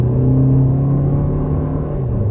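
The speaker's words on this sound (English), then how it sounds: "As soon as this guy figures it out, about half throttle, boost." A 2024 Toyota Grand Highlander Limited accelerates at half throttle on a test drive, making a steady, loud engine drone heard from inside the cabin with a slight drop in pitch near the end and no talk over it.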